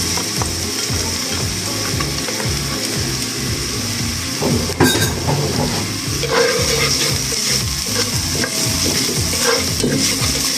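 Onion sizzles as it fries in a pan for a Peruvian papa guisada, a steady loud crackle with stirring scrapes and a brief clatter midway, close up and without talk.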